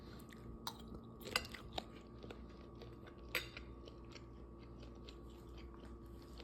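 Chewing on stir-fried beef tendons in soy sauce, a tough, chewy cut: close, quiet mouth sounds with a few brief crunchy bites standing out over a steady low background hum.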